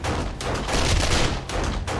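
Dense, continuous volley of gunfire in the zombie survival game 7 Days to Die, loud overlapping shots rattling nonstop with no talking.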